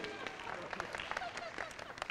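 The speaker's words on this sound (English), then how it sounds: "Big round of applause to these two." Game show studio audience applauding two contestants, a steady dense patter of many hands, quiet and distant-sounding with faint crowd noise mixed in.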